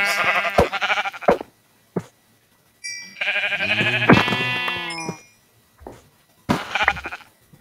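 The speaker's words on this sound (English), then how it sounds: "Oh yes, we have some sheep. I'm gonna kill these sheep." Sheep in a video game bleat in several loud, close, wavering calls, some overlapping, with brief silent gaps between them.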